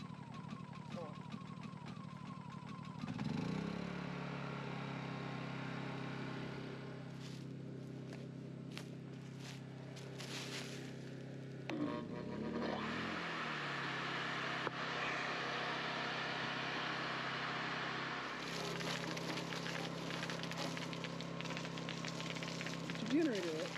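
A Honda portable generator at an off-grid cabin build site, running with a steady droning hum that changes pitch as the load shifts, with people talking nearby and occasional rustling and footsteps.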